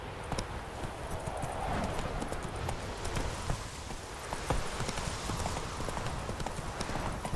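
Roach, a horse in The Witcher 3, clip-clops steadily on hooves at a walking pace, the rhythmic hoofbeats continuous and fairly close against a busy game soundscape.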